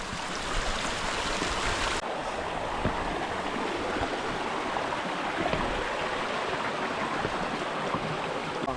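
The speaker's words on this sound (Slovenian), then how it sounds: "Dolina reke Glinščice in pa njen slap." Waterfall on the Glinščica stream in a rocky gorge, water pouring over hard bedrock with a steady, loud broadband rush throughout, no talking.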